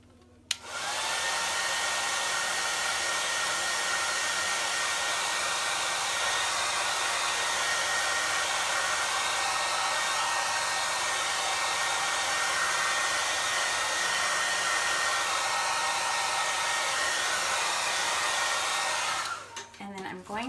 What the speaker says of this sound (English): now I'm going to take the hair dryer to it